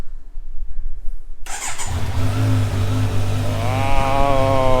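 A Kawasaki Z900 motorcycle cranks and fires up from cold with a quick starter burst, then settles into a loud, steady idle that rises slightly in pitch as it warms, heard up close.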